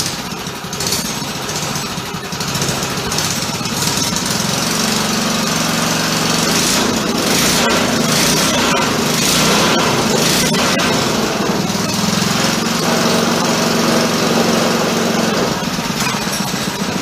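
A small mini motorbike engine fires up after a shot of starting fluid and keeps running with a loud, rattly, buzzing idle that continues steadily for the whole stretch.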